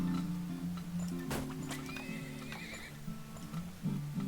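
A horse in the Turmoil video game gives a whinny, with a sharp clop-like click and a rising neigh over a low game hum and no talk.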